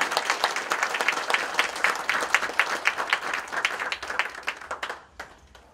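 An audience at a May 18 Gwangju Democratic Uprising commemoration applauds to welcome guest Na Kyung-taek, with brisk individual claps audible within a fairly close crowd, gradually dying away at the end.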